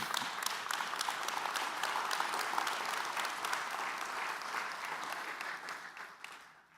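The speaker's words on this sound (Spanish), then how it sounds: "Vamos, dale un aplauso al Señor." A church congregation applauds in a steady, dense wash of clapping that holds for several seconds and then tapers at the end, heard from across the room.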